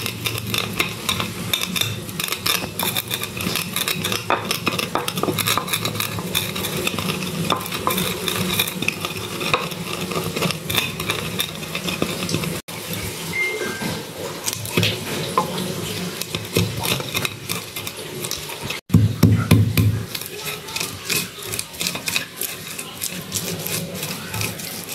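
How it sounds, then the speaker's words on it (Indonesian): Turmeric, ginger, candlenut, shallots, garlic and a little coriander are ground into a spice paste for chicken soto, a busy, continuous scraping and churning that runs on for a long stretch with brief breaks. "ada kunyit, ada jahe, kemiri, bawang merah, bawang putih ya. Ini kita haluskan semuanya."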